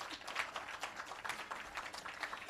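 An audience at an employee service awards ceremony keeps up steady, faint applause, a dense patter of many hands clapping at a distance with no voices over it.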